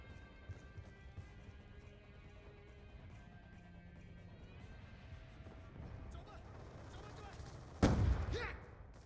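Gunshots in a multiplayer shooter match: a burst of loud shots lands near the end, after a stretch of quieter game noise and movement.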